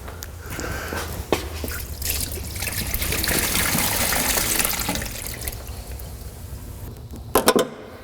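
Fluid trickles and drips from a part pulled off a Chevy GMT400 truck engine during removal, a steady wet dribble with a few sharp clanks near the end.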